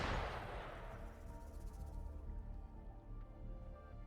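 Gunfire crackles in the video game Wuthering Waves, a sharp burst at the start fading into a steady rumble of distant shots and ambience.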